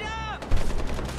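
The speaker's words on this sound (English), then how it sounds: "Gunfire erupted outward." Gunfire in the video game Far Cry 4: a brief tonal sound gives way to a loud cluster of rapid shots that crack and rumble in close succession.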